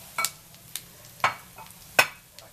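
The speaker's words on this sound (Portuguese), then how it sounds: "nós vamos agora fritar esse arroz, torrar ele bastante aqui" Rice frying and toasting in a pan with garlic and onion, a soft sizzle broken by a few sharp scrapes and clinks of a spoon stirring against the pan.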